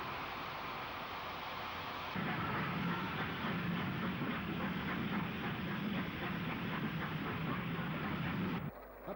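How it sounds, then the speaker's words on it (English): Merchant Navy class steam locomotive Orient Line pulls away from Basingstoke toward Waterloo in 1966, a loud rumbling roar with rhythmic chuffing and rail clatter building in after a quieter start, then cutting off near the end. "Merchant Navy Orient Line departs for Waterloo."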